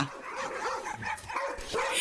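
Dogs bark and yip in quick, overlapping bursts at moderate volume, nearby, in a short stretch of a Filipino drama scene.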